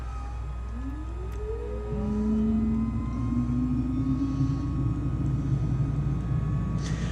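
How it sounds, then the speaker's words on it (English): A Cirrus G2 aircraft engine in a flight simulator cranks and catches, then settles into a steady, loud droning run with a rising whine that levels off, heard alone without talk. "Engine knob, set it to run. Contact, clear prop."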